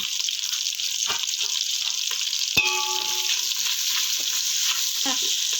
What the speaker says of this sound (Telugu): మిర్చి ఆనియన్స్ ఒకేసారి వేసేస్తే ఇవి మంచిగా ఫ్రై అవుతాయండి